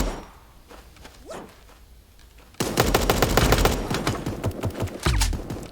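Rapid bursts of Tommy gun fire in Super Animal Royale, loud and close, starting abruptly after quieter game sounds and continuing in a long rattling stream.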